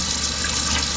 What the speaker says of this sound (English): Pour the rinse water